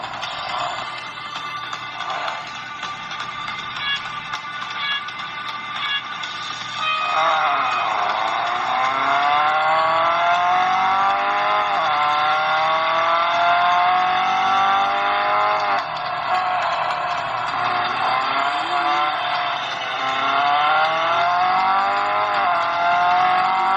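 Racing simulator game on a BlackBerry KEYone phone, with continuous engine revving and accelerating tones that rise and shift through gear changes, loud and steady for the whole stretch, no talking.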